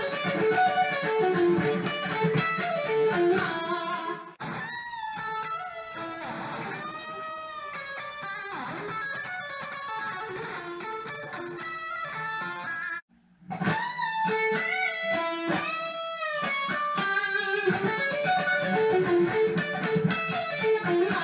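Electric guitar lick in a 1986 playing style, with octave bends and hanging notes, played alone in fast distorted phrases with one brief pause partway through.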